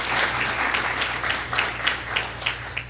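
Applause from an audience at a debate finals, a steady wash of clapping with soft rhythmic swells, fairly distant, over a low constant hum.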